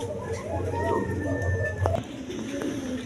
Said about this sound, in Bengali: দর্শকবৃন্দ এখানে দুটো ডেনিশ কবুতর আছে